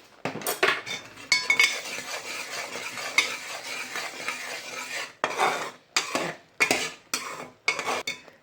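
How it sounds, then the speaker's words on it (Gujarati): A spoon stirs a sweet mixture of grated green coconut and cardamom in a pan over low heat, making close, repeated scraping and clinking strokes in uneven bursts separated by short pauses. "બધાને મિક્સ કરી નાખવાનું."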